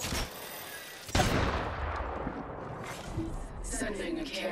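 Rapid gunfire bursts from the battle royale shooter Apex Legends crackle through the mix, a sharp volley near the start followed by sustained shooting, with a player talking over it.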